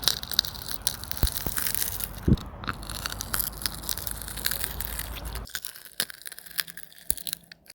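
A Chupa Chups lollipop being crushed between teeth close up, a loud sharp crack followed by gritty crunching that thins out toward the end.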